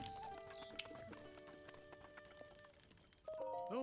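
A horse in a stable in the video game The Legend of Zelda: Breath of the Wild, with faint hoof clip-clops under in-game music and a short whinny-like call near the end.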